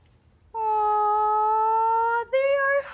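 A cat meows loudly and close by: one long, steady drawn-out meow, then after a brief break a shorter meow that rises in pitch. No one speaks.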